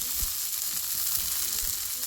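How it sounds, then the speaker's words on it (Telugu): Peanuts fry in a pan for a breakfast chutney, giving a close, steady sizzle with small scattered pops and stirring scrapes, no voices. "పల్లీలు అయితే మంచిగా వేగినాయి"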